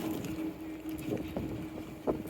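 Wind rushes past and water hisses softly as a glass-bottom tour boat moves along, heard from the front of the boat, a low steady whoosh with a few gusty bumps.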